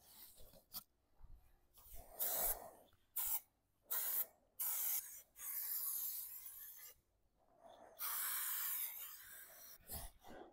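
A spray gun lays Raptor liner bed-liner coating onto a trailer in repeated hissing bursts of differing length, separated by short pauses, with no talking.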